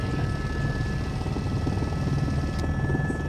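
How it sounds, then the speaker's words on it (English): A helicopter ride in Wales: a continuous, steady rotor thrum and turbine whine from inside or close by, loud and unbroken throughout. "We're going to go on this chopper."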